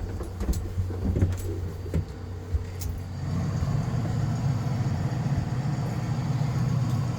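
A light aircraft engine runs steadily at close range, a continuous low droning rumble that swells louder and denser partway through, as if the level rises, with a few brief clunks early on and no talk.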